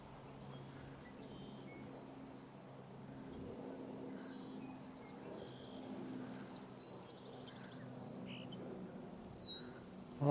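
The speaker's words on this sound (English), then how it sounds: "Lots of red-winged blackbirds." Scattered bird calls and chirps ring out at intervals over a low steady hum on a spring morning at Sargeant Bay, including sharp whistled notes of red-winged blackbirds, moderately distant.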